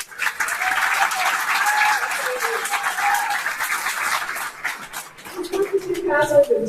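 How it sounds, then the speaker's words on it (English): An audience gathered at an honoring ceremony in the Scottish Rite Cathedral applauds Ken Rice with steady, moderately loud clapping that fades toward the end as a voice starts speaking. "Let's give him a round of applause."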